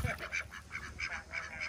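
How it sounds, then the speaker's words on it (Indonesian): A duck gives a rapid series of nasal honking quacks, about eight calls in quick succession, near and clear in an outdoor setting. "Bebek apa?"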